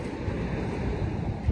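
Sea waves wash onto a sandy beach at Great Yarmouth, Norfolk, a soft continuous rushing surf with light wind noise, heard briefly and alone.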